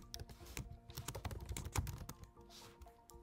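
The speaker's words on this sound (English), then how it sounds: "I will delete this and I will type that again" Typing on a computer keyboard, rapid close clicking keystrokes in an uneven rhythm, quiet and alone.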